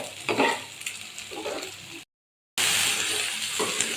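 Chicken gizzards sizzle and fry in a pan with onion and garlic, stirred with utensils scraping and clinking, steady frying hiss throughout with a brief cut of silence midway.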